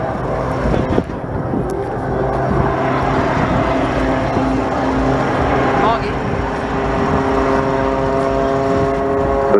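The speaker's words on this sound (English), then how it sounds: "You'll hear these jet engines spooling up as the aircraft starts to climb." Jet engines on a display aircraft spool up as it climbs at a seaside air show, giving a steady, droning engine roar with sustained tonal whine. A voice talks over the sound.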